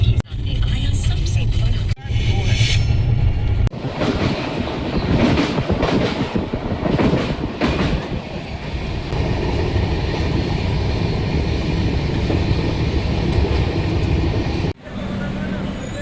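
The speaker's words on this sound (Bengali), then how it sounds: "ট্রেন ছেড়ে দিল এখন মালদা থেকে।" Interior of the 13125 Sairang Express from Kolkata running after leaving Malda, a steady loud rumble and rattle of wheels on rails with a sharp shift in tone near the start and a brief drop near the end.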